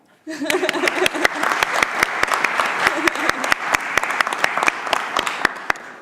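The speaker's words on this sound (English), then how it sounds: "A round of applause for Lisa." An audience at a talk on workplace democracy applauds a speaker named Lisa: sharp individual claps stand out close by over a full crowd of clapping, steady throughout, with faint voices mixed in early.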